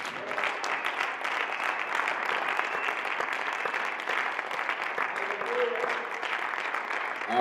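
A church congregation claps and cheers together in a sustained, dense burst of applause that holds at an even level throughout, with voices mixed into the crowd noise.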